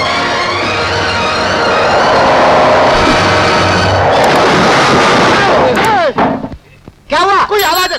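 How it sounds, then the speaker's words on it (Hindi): A loud, rumbling explosion blast dominates the opening seconds of a dramatic scene, then fades into agitated shouting voices. "कोई आवाज है, फिर से धमाका।"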